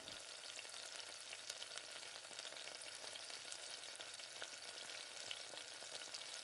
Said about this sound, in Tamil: அந்த மாதிரி வெந்தயமும் கடுகு நல்லா பொரிஞ்சு வரட்டும்.